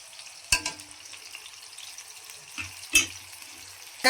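Sliced onions frying in oil for the tempering of an Andhra-style egg and stuffed brinjal curry, a soft, steady sizzle broken by a few sharp scrapes and clatters of stirring.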